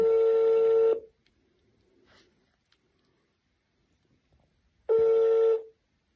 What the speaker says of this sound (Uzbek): Hozir eko bemorimizga telefon qilyapmiz